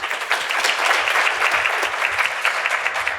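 An audience applauds a distinguished panel on regulation at a panel discussion, a steady wash of clapping from many hands lasting throughout without a break.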